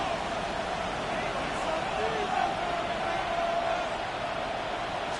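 Stadium crowd noise from a Madden 26 football game, a steady, dense roar of cheering fans building ahead of a third-down play, continuous and fairly loud throughout without breaks.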